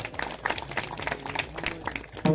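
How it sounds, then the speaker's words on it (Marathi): An audience at a kirtan claps for the women, a loose scattered patter of hands that stays moderate throughout and rises at the very end, with a faint murmur beneath. "टाळी वाजवा यांच्यासाठी"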